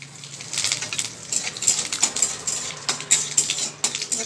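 Mustard seeds, cumin and curry leaves get stirred in a pan for mixed dal, a spoon scraping and clinking against metal in quick irregular taps and rattles with crackling seeds, fairly close with no talk.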